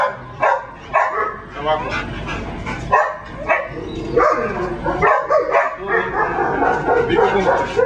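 A Belgian Malinois barks and yips in sharp, repeated bursts during a training session, loud and close, with a handler's voice giving commands between and over the barks.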